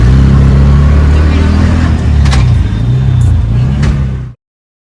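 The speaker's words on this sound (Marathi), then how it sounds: "रिक्षा चालू." Auto rickshaw engine running loud and steady from the start, its low throbbing drone rising and falling slightly before cutting off abruptly near the end.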